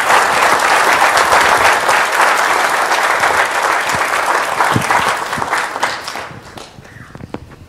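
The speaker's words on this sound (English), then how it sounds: "Let's give Mike Cottle a big round of applause." Loud, sustained audience applause for a speaker at a talk, a dense wash of clapping that holds steady for about six seconds and then thins out and fades near the end.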